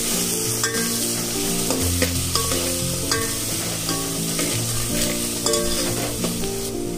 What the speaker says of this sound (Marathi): त्यामध्ये आपल्याला अद्रक लसूण पेस्ट टाकायची.